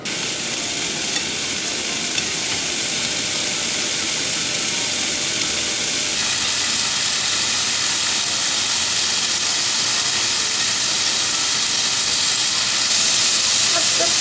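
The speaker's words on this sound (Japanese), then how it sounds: "テフロン加工のフライパンなので、今回はお肉の油で焼こうと思います。" Meat for a bibimbap bowl fries in a Teflon-coated frying pan in its own fat, making a loud, continuous, close-up sizzle and hiss that holds steady for the whole stretch with no speech.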